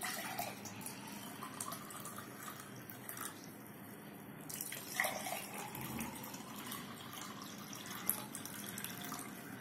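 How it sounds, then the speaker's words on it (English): Tap water runs and splashes steadily into a glass for a simple salt-water density experiment, a continuous close trickle and spatter with brief louder splashes, no speech. "Now we will fill the glass with water."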